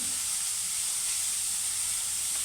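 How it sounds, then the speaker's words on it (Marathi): Sliced onion hits hot oil in a pan for a traditional Konkani chicken, giving a continuous close, bright sizzle and hiss that holds steady throughout. "आता मी हा कांदा टाकते"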